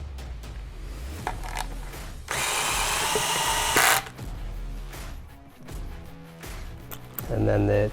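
A power drill drives screws into the aluminium motor plate of an ARRMA Kraton 8S RC car, one loud steady whir lasting about a second and a half amid workshop handling noises, with a voice speaking nearby.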